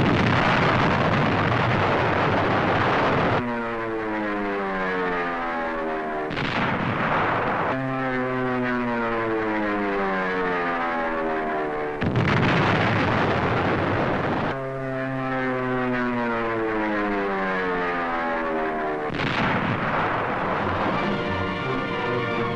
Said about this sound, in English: Now Mount Tsurubachi is smeared by Navy dive bombers.